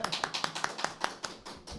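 An audience claps for a guest, the secretary of education, at a talk show, with sharp, distinct claps in a quick, steady rhythm that soften toward the end.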